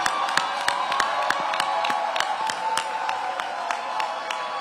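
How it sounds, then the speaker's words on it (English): A crowd of school educators at a back-to-school welcome event claps and cheers together, a lively, roomy mix of sharp rhythmic claps and whoops that stays fairly even throughout. "Okay, now we applaud."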